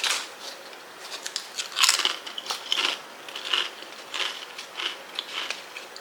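Someone bites into and chews food during a tasting of seaweed butter, producing a quick series of close, crisp crunches and wet chewing clicks, with no talking.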